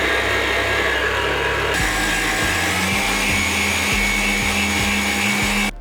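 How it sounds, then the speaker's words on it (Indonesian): Electric mixer beating cake batter for spiku kenari (walnut layer cake), a loud steady motor whir running continuously with rhythmic low thumps as the beaters turn through the thick batter, no talk. "kita boleh mixer selama sekitar 10 menit ya. Tergantung mixer kalian juga."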